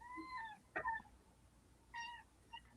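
A cat meows several times in a quiet room, clear harmonic cries at moderate distance with short pauses between them and no talking.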